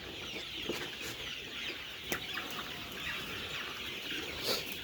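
Chickens cluck in a steady, crowded chorus, with short sharp calls popping out over a constant noisy background.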